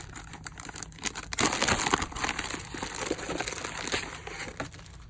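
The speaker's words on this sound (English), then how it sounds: "Oops, I can't get the envelopes up. They're stuck in the bag." Plastic bag crinkling and crumpling close up as craft envelopes are tugged out of it, a steady rustle with sharper crackles and no talk.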